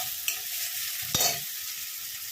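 Onions and tomatoes frying in a pan with a steady background sizzle, a couple of sharp spatula scrapes and clinks as they are stirred, close and fairly quiet.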